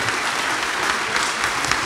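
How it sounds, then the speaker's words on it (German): Audience at a grappling match applauds the two fighters with dense, steady clapping that fills the short stretch without pause. "Nochmal Applaus für die beiden Fighter"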